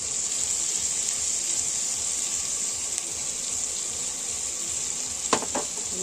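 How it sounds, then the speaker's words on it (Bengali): Steady hissing sizzle of garlic and green chillies frying in hot oil, continuous and close, with a brief clatter of stirring near the end. "নাড়িয়ে নেবো একটু, ভাজা ভাজা হবে"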